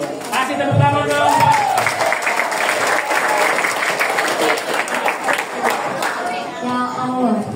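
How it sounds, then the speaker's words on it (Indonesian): A room of people, a sixth-grade primary school class, clapping steadily for several seconds, with voices mixed in among the applause. "Kasih tepuk tangan dong."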